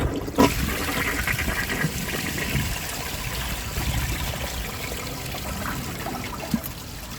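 A 2003 American Standard compact toilet flushes with its handle held down, a rushing swirl of water after a sharp start, settling into a steady trickling drain that fades slowly.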